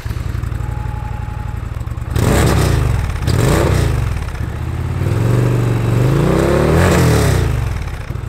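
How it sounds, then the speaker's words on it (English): An Indian Pursuit motorcycle's V-twin engine idles with a thudding pulse, then revs loudly in several rising bursts, close and unbroken by talk. "when you do get on the gas, it really does have a nice, satisfying thudding V-twin sound"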